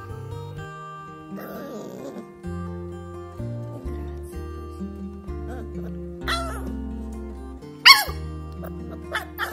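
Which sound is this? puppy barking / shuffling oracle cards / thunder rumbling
puppy barking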